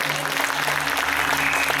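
Dense, continuous applause from a church congregation fills the space at a steady level, loud and sustained with a low hum underneath.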